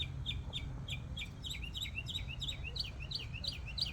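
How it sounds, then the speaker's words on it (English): Birds chirp in quick repeated phrases from atop a flagpole, clear and fairly close, over a steady low rumble of outdoor background noise. "The birds singing."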